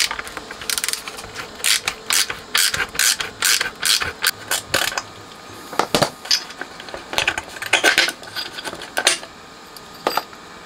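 A ratchet clicks in quick bursts while undoing the fixings of a bridge rectifier and transformer inside an HH Electronic S500-D power amp, close and crisp with brief pauses.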